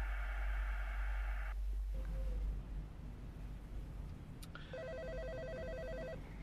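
A telephone rings inside a house in the video game Home, an electronic trilling ring that stops, then starts again after a short pause, steady and clear over a low hum with no talking.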